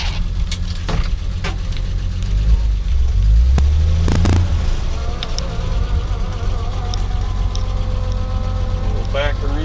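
A 1948 Ford F1 truck engine pulls away in super low gear without throttle, a steady low rumble under a buzzing whine that runs loud and close throughout, with a brief louder surge partway through.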